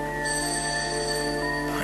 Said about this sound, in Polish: Dzwoni doktor Umberto Tinoco.